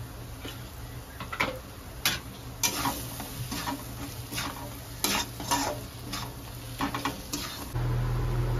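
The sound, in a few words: homemade spice masala roasting in a pan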